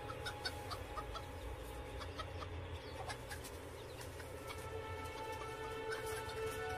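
Chickens clucking in the background, scattered short clucks and calls over a steady low hum, faint and continuous, with no talking.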